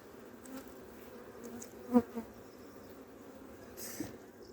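Honeybees buzzing at an opened hive during winter preparation in Adana, a steady low hum throughout with a couple of brief louder passes close to the microphone.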